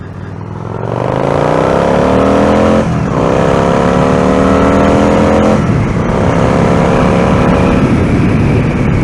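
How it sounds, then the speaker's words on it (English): Exhaust pipes on a 2003 Yamaha XVS1100 V-Star motorcycle, revved loud and close in three rising sweeps with a deep, rumbling tone and no talking. "it is a beautiful tone that we're getting from these pipes"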